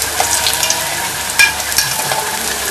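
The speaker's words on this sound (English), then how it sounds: "plantain can be eaten raw, so it doesn't really matter how long you fry it. You just want to brown it." Plantain slices fry in a pan with a steady, close sizzle of hot oil, broken by a few sharper pops and crackles, with no one talking.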